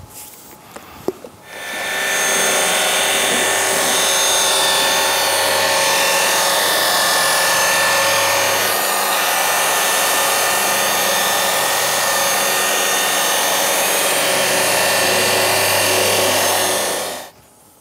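A car polishing machine running on a car's paintwork, a loud continuous whirring drone that starts abruptly after a brief handling knock and holds steady for about fifteen seconds before cutting off.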